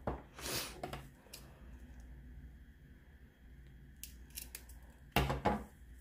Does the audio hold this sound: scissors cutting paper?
yes